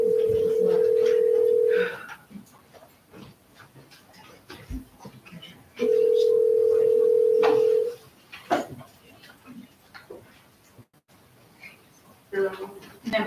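Dial tone sounding on a speakerphone line while a school board meeting connects a member by audio, two long steady tones of about two seconds each, separated by faint room murmur and clicks.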